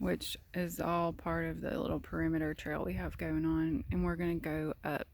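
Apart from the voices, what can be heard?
None of the usual background noises is heard.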